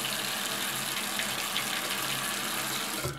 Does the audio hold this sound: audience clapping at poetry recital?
no